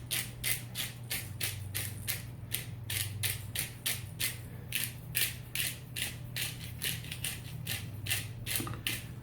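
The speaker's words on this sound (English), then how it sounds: "let's get the my pepper grinder here, and let's go ahead and get a bunch of pepper in there" A pepper grinder cranks out black pepper onto a turkey being prepared for smoking on a grill, a steady run of close, rhythmic ratcheting clicks repeating throughout with no talk.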